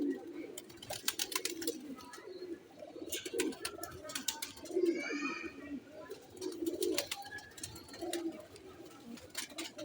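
Old rare Sialkoti black-faced pigeons coo in low, repeated rolling phrases close by, with sharper high chirps and flutters scattered through and a faint voice now and then.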